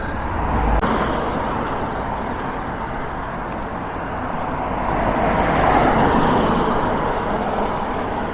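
Steady roar of busy traffic on the old N7 road between Limerick and Dublin in Ireland, with cars, buses and trucks passing continuously close by and a gentle swell as heavier vehicles go past.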